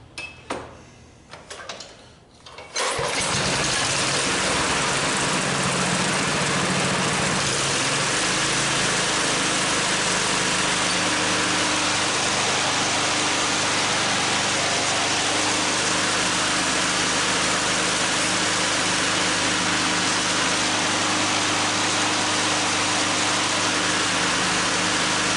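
A Snapper 21 inch commercial self-propelled mower engine is pulled over a few times, catches after a brief pause, and then runs loud and steady at close range for a long stretch.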